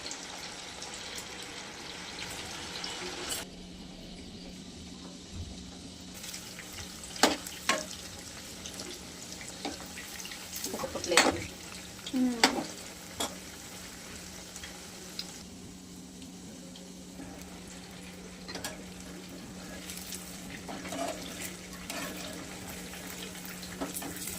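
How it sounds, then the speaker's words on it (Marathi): Sabudana fingers deep-frying in hot oil over a medium gas flame, a soft continuous sizzle with occasional sharper crackles and pops, close but quiet, no talking. "मीडियम गॅसवर मस्त तळून घ्यायचं."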